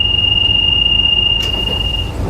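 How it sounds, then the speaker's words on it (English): A London Underground Central Line train bound for Epping makes a loud, steady rumble with a sustained high metallic whine from the wheels that fades out partway through, no talking. "train to Epping"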